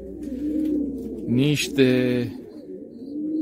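Pigeons in a breeding loft coo close by in low, throaty rolling calls, with someone speaking Romanian over and between the cooing.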